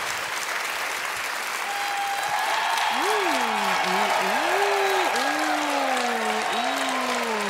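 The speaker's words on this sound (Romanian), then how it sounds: "să o primim cu aplauze puternice pe Luana" Audience applause for dancer Luana Cayres after her samba act hanging by her hair on a comedy stage, steady dense clapping throughout with a sung or vocal tone weaving over it.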